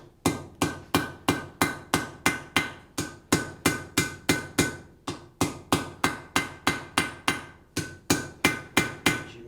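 Steady, evenly paced hammer blows ring out on a horseshoe point held in tongs at the edge of an anvil during blacksmith forging, about three sharp metallic strikes per second, close and moderately hard, with no talking.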